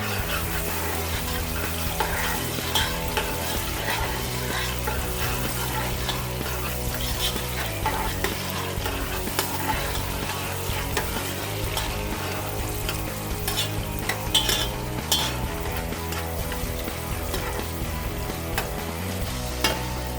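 Onions fry in oil on a stovetop for black-eyed peas the Nigerian way, giving a continuous crackling sizzle with occasional stirring clinks, steady and close under a low background hum.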